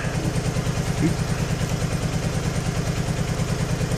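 Honda Pacific Coast PC800 motorcycle engine idling in a home garage: a steady, even low rumble with a fine regular pulse, close and constant throughout, with a brief slight swell near the start.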